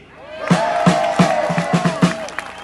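An audience at a Les Patriotes political rally cheers loudly after a speech, with rhythmic, evenly spaced clapping beating under a roar of voices and whoops.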